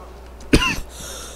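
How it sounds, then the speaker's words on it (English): A single short dry cough, close and loud, over a low hum of background noise. "I just have like dry coughs out of nowhere"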